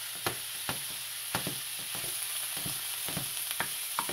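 Frozen tamale pie filling is broken up and fried in a pan, giving a steady broad sizzle with repeated sharp scraping strokes of a utensil against the pan, close and alone without talk.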